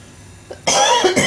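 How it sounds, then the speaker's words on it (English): A single harsh cough bursts out loudly and close, following a brief quieter throat sound. "I'm really sorry about the coughing."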